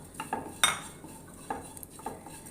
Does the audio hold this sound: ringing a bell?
no